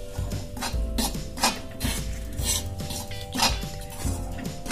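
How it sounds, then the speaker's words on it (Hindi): Wheat flour roasting in ghee in a kadhai, a spoon scraping and clinking against the metal pan in a steady repeated rhythm, up close with no talking. "इसी कढ़ाई में मैं आटा भूनूंगी"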